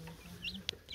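A newly hatched tiger chicken chick gives a few thin, high cheeps, soft and close against a quiet background, with one sharper peep near the middle.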